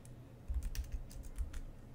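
Keys tapped on a computer keyboard while entering a command in a terminal window, a quiet, uneven run of close clicks and taps over a low background hum, with no voices.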